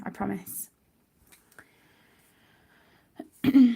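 A sharp sneeze bursts out at the end after a quiet stretch, preceded by a short spoken phrase and faint clicks.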